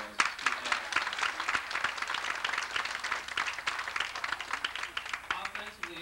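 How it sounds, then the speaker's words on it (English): Audience at a high school football awards banquet applauding, a steady spread of many hands clapping at moderate volume for several seconds, with a few louder individual claps standing out. "That probably deserves a round of applause."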